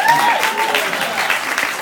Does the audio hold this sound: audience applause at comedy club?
yes